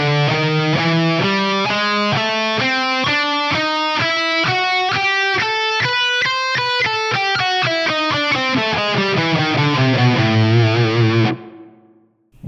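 A distorted electric guitar plays a fast chromatic scale lick, a continuous run of evenly picked notes climbing and then descending in pitch, loud and close, ending abruptly in silence.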